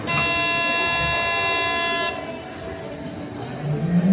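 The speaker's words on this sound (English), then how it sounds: "Hello, and welcome to the Hershey Park Monorail." A Hersheypark monorail in Hershey, Pennsylvania pulls away. A clear, sustained horn tone sounds for about two seconds, then a low rolling rumble builds as the train gets moving.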